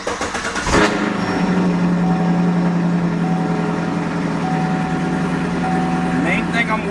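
A Gen V LT1 V8 in a sixth-generation Chevrolet Camaro, just fitted with a ported 87mm throttle body, starts with a brief burst and then settles into a steady, smooth, close idle that holds evenly throughout.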